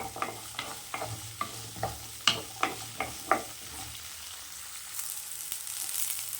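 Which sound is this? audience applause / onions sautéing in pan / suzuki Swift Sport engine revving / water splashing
onions sautéing in pan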